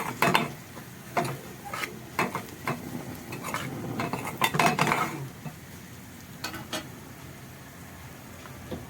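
A spoon scrapes and clinks against a pan in irregular bursts as garlic and coriander are fried for a molokhia topping; the stirring is close and fairly loud, with no sizzle standing out and no talk.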